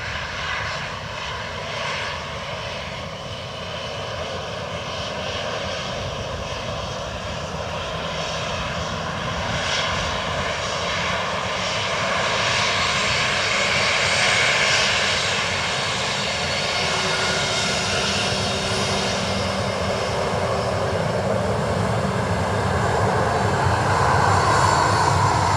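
A fixed-wing airliner lands on runway 28 left at Dublin Airport, its engine roar loud and steady throughout, swelling slightly as it passes, with no voices.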